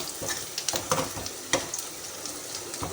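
Garlic and ginger sizzle steadily in a hot pan for an arvi and potato curry, with a few scraping stirs and soft clinks over the continuous frying hiss, no talking.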